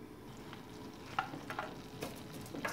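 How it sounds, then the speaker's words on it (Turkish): One tablespoon of butter melting in a frying pan gives a faint, soft sizzle with scattered small crackles and light stirring clicks, quiet and alone. "Üzerinin sosu için 1 yemek kaşığı tereyağı tavama alıyorum."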